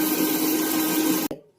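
A kitchen mixer grinder whirs loudly and steadily close by as it grinds cumin seeds, ajwain and garlic, then cuts off abruptly with a brief clunk as the motor winds down.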